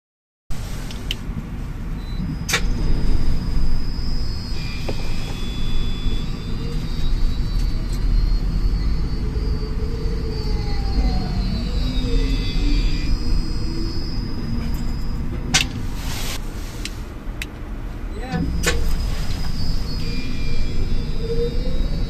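A Moritsch tower crane hoists its hook, heard from inside the cab: a steady loud mechanical drone and whine fills the whole stretch, with a few sharp clanks and tonal shifts along the way.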